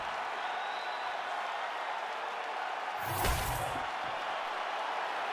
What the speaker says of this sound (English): an appreciative capacity crowd on its feet as this next round gets underway